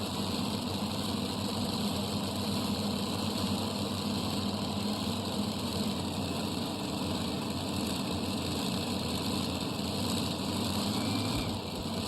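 A multi-engine tractor-pulling machine with three 600-cubic-inch wedge engines runs at a tractor pull, a loud, steady droning roar with a constant whine held throughout.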